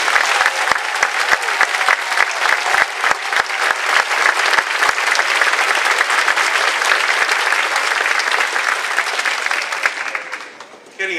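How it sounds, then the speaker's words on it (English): Sustained applause from a large commencement audience honouring graduates, a dense even wash of clapping lasting about ten seconds before tapering off at the end. "give you a big round of applause"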